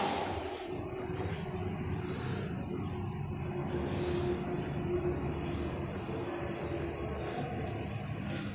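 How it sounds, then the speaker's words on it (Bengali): A train runs near a hotel in Varanasi, heard as a steady, fairly faint rumble and rolling noise that fills the whole stretch without clear breaks, with no talking. "এই হচ্ছে ট্রেন বেরোবার জায়গা।"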